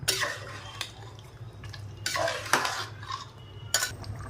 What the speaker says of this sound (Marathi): तर व्यवस्थित हलवून घ्या